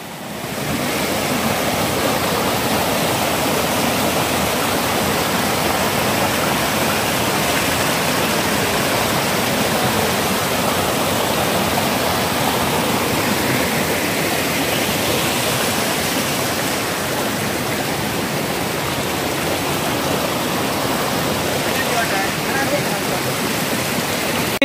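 Waterfall near Jal Mahadev temple in Khaprakhol, Balangir, roaring steadily and loud from close by as a continuous broadband rush of falling water throughout.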